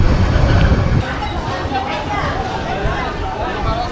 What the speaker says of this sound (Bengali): কক্সবাজার রেলওয়ে স্টেশনে পর্যটক এক্সপ্রেস ট্রেন প্রবেশ করলো